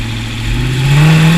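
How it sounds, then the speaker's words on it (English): A custom homebuilt Chevy V8 motorcycle engine revs up close, its deep rumbling tone climbing steadily in pitch and volume over a second or so. "V8 motorcycle."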